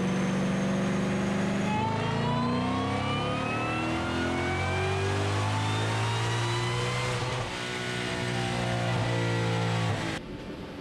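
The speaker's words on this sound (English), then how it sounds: "it whines so much more with the new intake on" A 2020 Shelby GT500 with a new intake revs hard on a dyno pull, its engine roaring and rising in pitch with a strong supercharger whine, close and loud throughout before easing off at the end.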